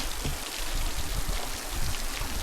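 Water pours steadily down a weeping wall in a canyon near Hoover Dam, a dense, close, continuous splashing hiss with no voices.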